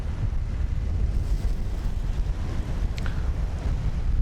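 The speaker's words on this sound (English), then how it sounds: "The wind is blowing quite nicely today." Steady wind roars across the deck of a 1960 34 m steel-hulled English gentlemen's yacht, a dense, close, rumbling buffet that continues unbroken with no talking.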